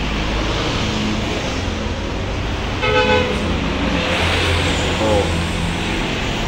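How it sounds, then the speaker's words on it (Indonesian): A car passes along a road and sounds its horn in two short toots a couple of seconds apart, over steady traffic noise. "mobil"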